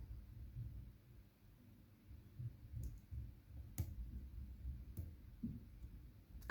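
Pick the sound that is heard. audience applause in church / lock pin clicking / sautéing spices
lock pin clicking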